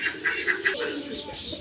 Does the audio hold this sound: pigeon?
yes